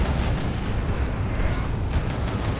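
A barrage of rocket-run explosions in the strategy game Warhammer 40,000: Dawn of War 2, a dense, continuous rumble of booms and blasts at steady loudness throughout, with no speech over it.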